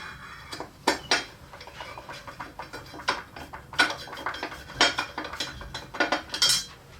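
Torx screws being driven into the parts of a Jessem router table during assembly, giving scattered metallic clicks, ratcheting and clinks of hardware, close by and with no voices.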